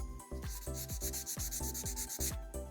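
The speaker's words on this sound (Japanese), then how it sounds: "続いて番手を上げていってヤスリでできた傷を消していきます。" Fine sandpaper rubs back and forth over a glued seam on a plastic Gunpla model, producing quick, even, close scratchy strokes about five per second, quiet and with no voices.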